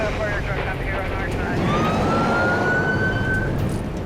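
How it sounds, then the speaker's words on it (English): Fire truck and police car sirens wail at a rainy roadside scene during a storm, loud and wavering over heavy rain and traffic rumble, with a voice speaking partway through. "There's all sorts of fire and police cars there."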